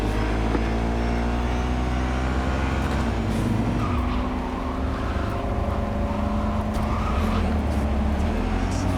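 Car engine in the video game Cyberpunk 2077, a steady loud droning hum with shifting pitch as it drives on, running continuously with faint tire noise and no talk.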